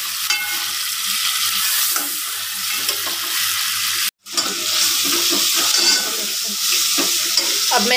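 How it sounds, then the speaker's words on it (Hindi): Tomatoes tipped onto lightly fried garlic in hot oil sizzle loudly and steadily while being stirred, for a homemade aloo salan, with one brief break in the frying noise. "ये मैंने लहसुन हल्का सा पेस्ट हुआ तो मैंने इसमें डाले हैं टमाटर।"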